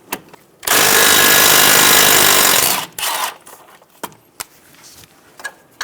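A tool runs on a brake line bracket bolt of a Subaru Outback, loosening it with a 12mm socket. It gives one loud, steady buzzing burst of about two seconds, then a short second burst and scattered clicks and knocks.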